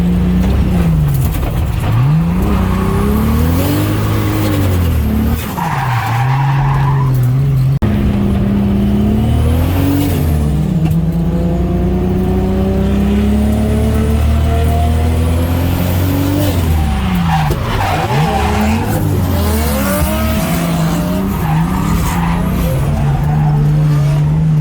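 Drift car on a race track, its engine revving loud and continuous with rising and falling pitch sweeps, tires skidding through slides, all close and dense for the whole stretch, with no talk.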